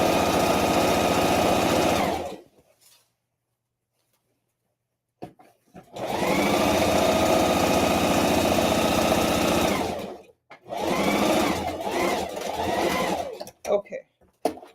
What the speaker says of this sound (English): Just to sew that part down.